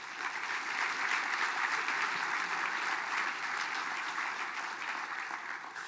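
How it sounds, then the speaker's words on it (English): Sustained audience applause honoring former leaders at a Mille Lacs Band of Ojibwe gathering: a dense, steady wash of clapping from a large crowd that holds an even level for the whole stretch, with no voices over it. "So can we give the former leaders a round of applause"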